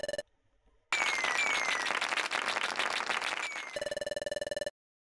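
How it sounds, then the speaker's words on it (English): Crowd clapping in the Pokémon Mystery Dungeon: Explorers of Sky video game: a dense, steady burst of applause in game audio, set between chiming electronic tones and abruptly cut off. "And there are the claps."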